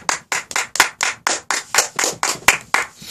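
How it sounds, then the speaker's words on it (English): About a dozen sharp hand claps in a radio studio booth for guests, close and loud, coming in a fairly steady rhythm with no talk over them. "Let's just give him a hand a clap"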